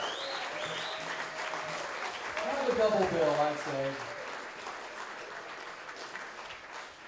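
Applause from an audience at a benefit concert in the Chico Women's Club, steady and fairly faint throughout, with someone speaking over it and a sung or spoken phrase rising briefly in the middle.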